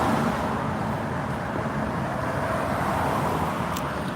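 Loud engine of an old car running on a Chicago street near the start of Route 66, a steady broadband rumble and road noise throughout with no break.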